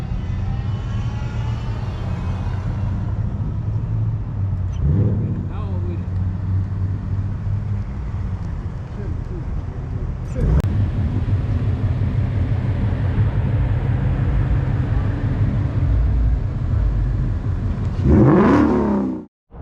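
A Ford Mustang 5.0 V8 rumbles loud and close with a deep steady idle, broken by a few blips of revving and a final rising rev before cutting off.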